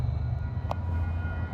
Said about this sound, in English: And you can see Amtrak trailing off to the west.